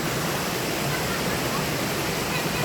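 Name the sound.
Tagkuriring waterfall at Puerto Princesa, Palawan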